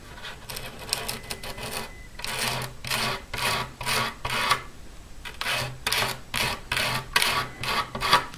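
A scraper drawn across the stained finish of a Washburn acoustic guitar during repair, heard as a series of repeated rasping strokes in bursts, close and moderately loud, with no talking.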